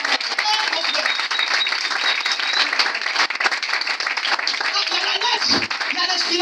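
A church congregation at a Sunday service applauds in loud, dense, sustained clapping from many hands, with voices mixed into the din.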